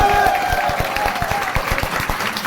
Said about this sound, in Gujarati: બધા તાળીઓ પાડજો